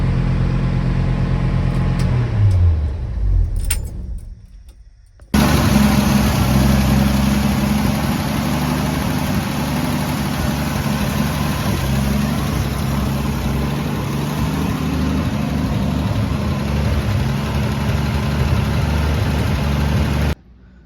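A car engine with an exhaust leak idles loudly and steadily with a raspy, hissing edge, after a brief dip and cutout near the start.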